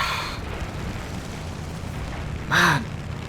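A War Thunder battle brings a muffled rumble of distant gunfire, then a single loud, sharp blast near the end, with no voices.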